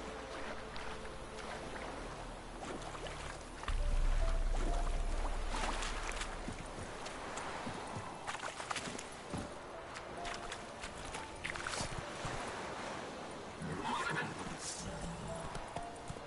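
In The Witcher 3, a horse gives a loud whinny partway through, followed by clip-clopping hooves, rustling and gear noise as it is ridden along.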